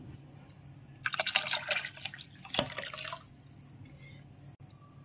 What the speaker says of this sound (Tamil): இப்போது இந்த புளி தண்ணியிலே நான் அந்த பொடியை கரைக்கிறேன்